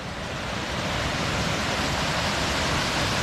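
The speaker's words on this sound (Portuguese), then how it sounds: "Estamos em outra cachoeira, pessoal." A waterfall seen from a lookout above, on a trail of seven waterfalls in Sengés, Paraná, gives a steady, loud broadband roar of falling water with no breaks.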